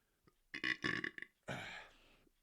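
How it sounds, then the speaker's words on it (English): A loud, drawn-out burp from a man, several gulping bursts followed by a long rumbling belch, close up and alone with no talk. "Oh, burp coming."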